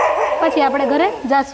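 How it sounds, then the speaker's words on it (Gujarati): Dogs near a Mahadev temple bark and yelp in a quick, fairly loud series, overlapping with someone talking nearby. "અત્યારે કૂતરા ભસે છે એટલે અવાજ જરાક નહીં આવતો."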